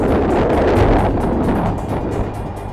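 Strong wind gusts buffet a sea kayak in the lee of coastal cliffs, a loud low rumble of wind on the microphone with rhythmic slaps of small waves against the hull.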